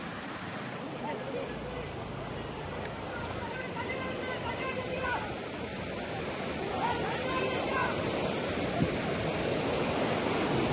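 A steady, loud roar of rushing floodwater at Nambi Kovil temple in Thirukurungudi fills the whole clip, swelling slightly toward the end, with no voices.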